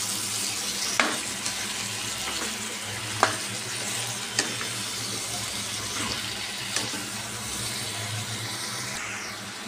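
Chopped vegetable stalks sizzle gently in a pan with green chilli, with a soft continuous frying hiss and a few sharp clicks of a spoon stirring against the pan, fairly quiet and steady.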